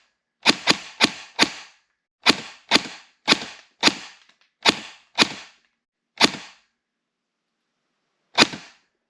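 A Cyma CM041G MP5 airsoft gun firing 0.28 BBs in semi-auto, sharp snapping shots in a quick run of about ten, then one last shot after a pause, close and loud with no talking.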